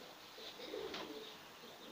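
Soft cooing murmurs of young pigeons over a steady background hiss, low and muffled, with no voices.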